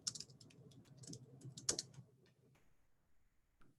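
Someone types quietly on a computer keyboard nearby in irregular runs of light key clicks, and the tapping thins out to a few stray taps toward the end.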